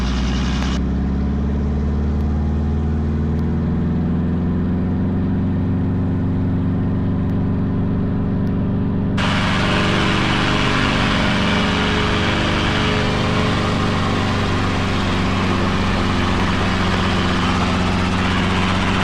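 A training helicopter's engine and rotor run continuously during hover practice, a loud steady low drone with layered tonal hum that brightens into a broader roar partway through.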